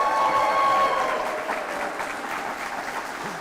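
Live audience at an evening faith event clapping and cheering, a dense burst of applause that starts loud and gradually eases while staying continuous to the end.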